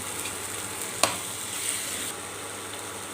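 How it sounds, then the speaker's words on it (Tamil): Tomatoes and onions sautéing in a pan for a spicy fish rasam with turmeric, a soft steady sizzle close by, with one sharp clink partway through and no talking. "தக்காளி நல்லா வதங்கி வந்துடுதுங்க"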